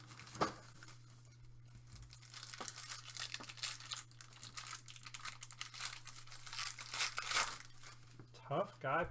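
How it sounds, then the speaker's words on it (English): Cellophane wrap on a box of 2022-23 Revolution NBA basketball trading cards being cut and torn, a steady run of crinkling and tearing with brief sharper rips, close up with a constant low hum beneath and some talk. "If the cellophane's gonna let us cut through there."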